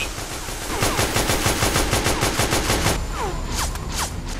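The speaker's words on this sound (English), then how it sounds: "I'm under enemy fire." Rapid automatic gunfire from enemies in the stealth-action game Metal Gear Online 2, loud and close with sustained bursts of overlapping shots and no talking.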